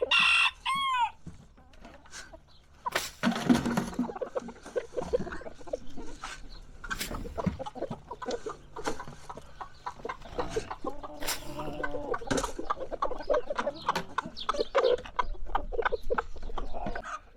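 Chickens clucking and crowing nearby, with scattered calls and rustling throughout; a rooster crows early on.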